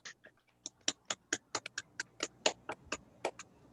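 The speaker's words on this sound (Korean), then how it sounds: "모두 음소거 해제하시고 하나님께 영광의 박수 올려드리겠습니다" Sparse, distinct hand claps from a small congregation praising God during an online church service, about a dozen separate claps spread unevenly with quiet gaps between them.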